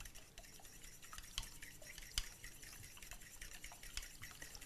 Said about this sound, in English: Just whisk your eggs through until they're completely and totally mixed